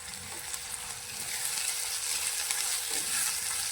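Spices being stirred into fried tomatoes in a pan for a homemade bean-seed (ghevda) curry, a steady close sizzle with broad hiss throughout and faint scraping strokes, no talking.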